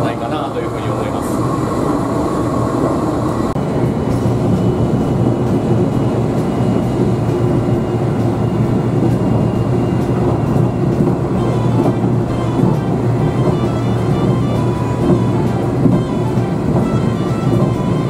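A KORAIL ITX-Saemaeul train in South Korea rumbles along continuously, heard from inside, a loud, dense low roar with rattling, steady throughout with little variation.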